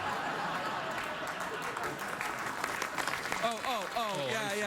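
A late-night talk show studio audience applauds in a broad steady wash, with a voice starting to talk over the clapping near the end.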